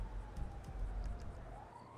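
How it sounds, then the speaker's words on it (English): An ambulance siren in a video game wails steadily at moderate distance over a low rumbling background, a short continuous rising tone with no speech. "that's the ambulance coming right now"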